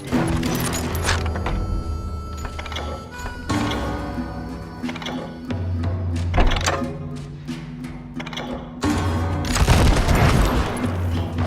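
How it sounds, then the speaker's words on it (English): Gunfire in the Western shooter Call of Juarez: Gunslinger, with repeated loud shots and booming blasts over a steady music bed, dense volleys at the start and again near the end. "I heard the shots"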